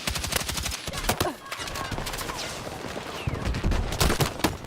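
Rapid gunfire from the video game Battlefield 6 crackles in dense bursts, sharp and fairly close, layered over a busy battle soundscape.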